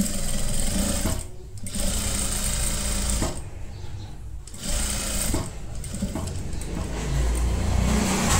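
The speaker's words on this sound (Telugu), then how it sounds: "థ్రెడ్ ఒకటి ఇటు సైడ్ కూడా కుట్టేస్తాను" While a kurti seam is stitched, a sewing machine hums close and loud in several runs separated by brief pauses, speeding up and easing off between bursts.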